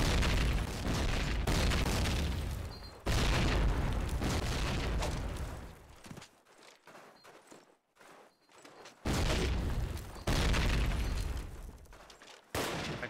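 Repeated heavy bomb blasts in a multiplayer video game match, loud broadband booms in several bursts separated by a quieter stretch of rumbling aftermath, with faint player chatter in the background.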